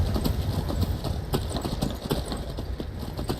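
A horse gallops in the video game Skyrim, its hooves beating a fast, steady clip-clop rhythm close by over a soft ambient background, with no talking.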